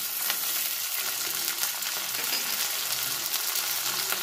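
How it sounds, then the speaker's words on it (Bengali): Onion and grated ginger frying together in a pan, with a steady, close sizzle and crackle that carries through the whole stretch, broken by soft scrapes as the mixture is stirred. No voices. "আদাটা দিয়েও পেঁয়াজের সঙ্গে একটু নাড়াচাড়া করে দেবো, কাঁচা গন্ধটা চলে যাওয়া পর্যন্ত"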